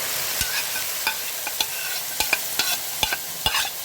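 Tomatoes go into frying meat in a pot for a Saudi kabsa, with sharp scraping stirs and clacks at a steady rhythm over a continuous loud sizzle.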